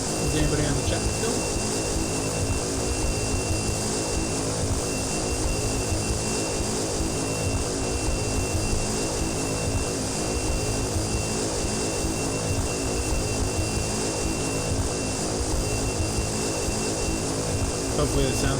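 Steady, loud cabin drone of a Carenado Grand Caravan turboprop in X-Plane 11, constant throughout with no change in pitch, while someone speaks intermittently over it.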